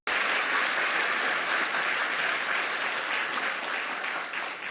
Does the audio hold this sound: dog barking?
no